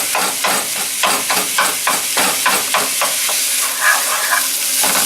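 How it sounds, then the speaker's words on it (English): Lean beef frying in a pan while a spatula repeatedly chops it into chunks, loud close sizzling broken by a steady rhythm of sharp scraping strikes about twice a second. "getting the beef into smaller chunks is definitely good"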